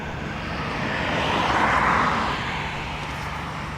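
A Ryanair airliner takes off from runway 28 right at Dublin Airport, its engine roar swelling steadily to a broad peak and then easing slightly as it climbs away, heard at moderate distance with no talk.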